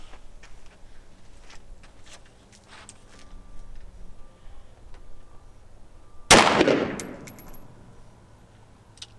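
A single sharp rifle shot from a 6.5 Grendel AR with a 20-inch Proof Research barrel, firing 156 grain Norma soft points loaded with Winchester powder. It cracks loudly out of quiet outdoor background and decays with a trailing echo.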